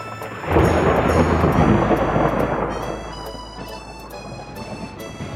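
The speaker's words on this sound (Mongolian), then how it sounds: "Өнөөр дуу цахилгаантай бороо орох тул ард иргэд та бүхэн сэрэмжилээрэй" A thunderstorm with a deep rolling peal of thunder that bursts in loudly, then fades over several seconds into a steady hiss of falling rain.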